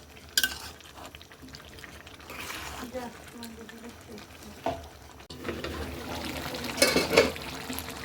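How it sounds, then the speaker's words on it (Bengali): Duck meat curry with garlic and chili sautéing in a pot, soft sizzling and repeated stirring scrapes with a louder wet stir near the end, while a voice talks over it. "এই গাইস দেখুন এখনো কষানো হচ্ছে"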